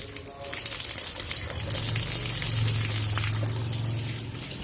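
Water runs steadily from a broken tap that will not shut off in a home kitchen, a continuous hissing gush at moderate level with a low hum beneath.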